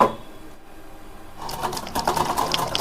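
Sweet potato is sliced for chips. After a quiet start, a quick run of rhythmic, close cutting strokes follows.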